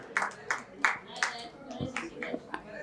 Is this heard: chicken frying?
no